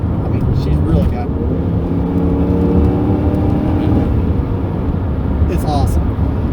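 A 1997 Mercury Cougar XR7 accelerates on the highway, heard from inside as a steady, loud engine drone rising in pitch with road and wind roar, while people talk briefly.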